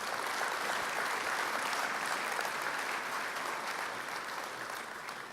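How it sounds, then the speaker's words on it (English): Awards night audience applauding together, a steady dense wash of many hands clapping that holds loud throughout and eases off slightly toward the end. "Can I get a round of applause for those folks?"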